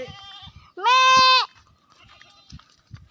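A goat being fed lets out one loud, close bleat of about half a second, with a strong wavering tone, among quiet rustles and faint thumps.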